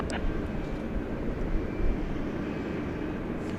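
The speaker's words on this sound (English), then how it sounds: "It's a 747-8." A Boeing 747-8 jet at night at DFW Airport in Texas, a steady low broadband engine roar filling the scene at a fairly constant level, distant and droning with no clear peaks.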